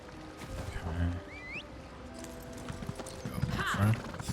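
Horse hooves clip-clop steadily at a walking pace in an Elder Scrolls Online game scene, with a brief whinny and faint fantasy ambience behind them.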